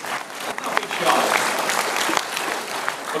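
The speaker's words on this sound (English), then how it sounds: "let's give them a clap" Short burst of audience applause at a lecture on exascale computing, brisk clapping from a roomful of people with voices mixed in, lasting about three seconds.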